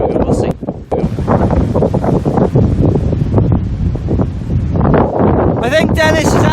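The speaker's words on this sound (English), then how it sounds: "It's so wet and windy." Strong gusts of Storm Dennis batter the microphone on an outdoor walk, a loud, blustery roar that rises and falls, with a brief dip near the start and a burst of higher rushing noise toward the end.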